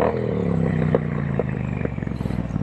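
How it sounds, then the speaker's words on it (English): Triumph Street Twin 900, a 900cc inline twin with TEC 2-into-2 exhaust, engine rumbling steadily at close range with a low droning exhaust note, ending in a rougher, choppy pulsing idle. "Great sounding bike. This is a 900cc inline twin."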